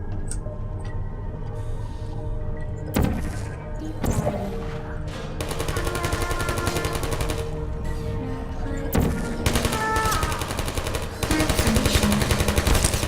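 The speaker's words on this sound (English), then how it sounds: "why are you shooting at me?" Rapid automatic gunfire aimed at the player in the video game Portal, bursts of machine-gun rattle starting and stopping across about thirteen seconds, close and loud over a low game background.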